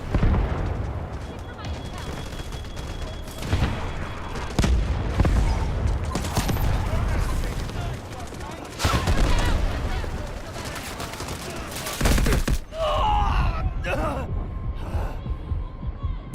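Artillery barrage in the Delta Force video game, a dense run of heavy booms and rumbling blasts that continues without letup, with voices talking over it.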